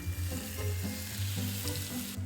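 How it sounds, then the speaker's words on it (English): Potato pancake mix frying in hot oil in a pan gives a steady, close sizzle that runs without pause under a low tonal backing. "Let's get it sizzling. Heat some oil in a pan and spread the potato mix into one even layer."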